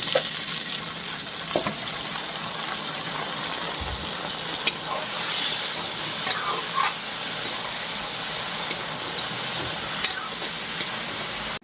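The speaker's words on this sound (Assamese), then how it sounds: "দিলোঁ খাচী মাংস, পূৰা ভাজি লওঁ মাংসটো" Goat meat frying in a pan with onion, green chilli, ginger, garlic and bay leaf, a steady loud sizzle running throughout with occasional stirring scrapes and small spits.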